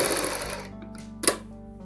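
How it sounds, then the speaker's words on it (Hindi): A sewing machine stitches the collar of a ladies' kurti coat near the shoulder, running in a brief, dense, close burst for under a second before stopping, with a small tap afterward. "अब हमने दोस्तों यहाँ से सिलाई लगानी है, ऊपर कंधी से शुरू करनी है"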